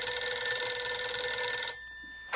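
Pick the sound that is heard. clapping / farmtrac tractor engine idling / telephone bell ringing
telephone bell ringing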